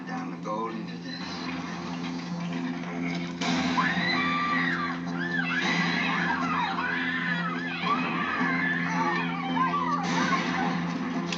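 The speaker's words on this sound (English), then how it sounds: "Girl can scream, can she?" Women screaming in the 1980 horror film The Fog: several high, wavering cries stand out loudly over a steady low droning score, with a burst of shrieking and commotion after the first few seconds.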